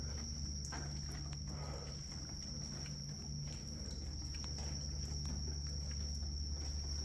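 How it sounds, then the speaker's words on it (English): Steady, high-pitched cricket chirping goes on throughout, a constant shrill trill over faint low background hum, upstairs in an abandoned, decayed bank office building in Chicago. "Cricket."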